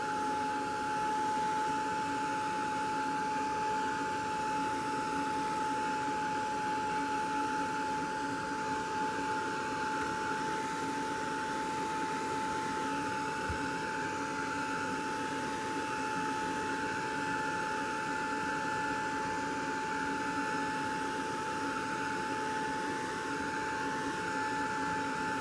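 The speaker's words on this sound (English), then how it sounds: "luckily for me I have the heat tool. This one's pretty quiet." A heat tool blows steadily while drying Distress Oxide ink on tags, a constant close whir and rush of air with a faint tonal hum lasting throughout.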